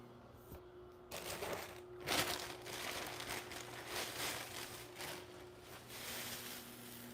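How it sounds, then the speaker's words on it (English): Plastic crinkling and rustling in several bursts over a faint steady hum, close by, like a thin bag being handled and pulled open. "just get you a nice little plastic bag like so. Just open this up like so."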